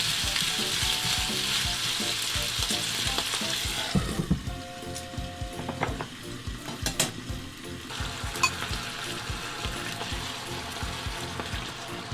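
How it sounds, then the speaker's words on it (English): Onion slices sizzle and fry in a pan of sweetened sauce for oyakodon, a steady close hiss that drops in level partway through, with stirring clicks and light utensil taps on top. "Then I put onion slice."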